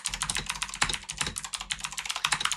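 Fast typing on a white Redragon K710 RGB mechanical keyboard, a dense continuous patter of close key clicks and clacks with no talking.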